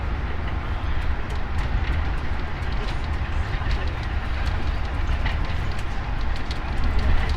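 A KRL commuter train passes close by near Bekasi with a dense, steady rumble and clatter, heard from aboard another moving train, with rhythmic rail clicks throughout and no speech.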